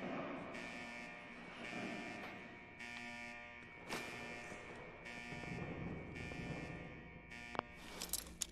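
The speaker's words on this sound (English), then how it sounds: "how to shut that damn alarm off" Alarm in the Fallout 4 video game, a harsh electronic buzzer pulsing in repeated on-off bursts for several seconds amid game noise, fairly faint, with a few sharp clicks near the end.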